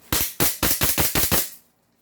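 A JWC CO2-powered toy gun fires a quick burst of about seven sharp, loud, close shots in fast rhythm, then stops into near silence.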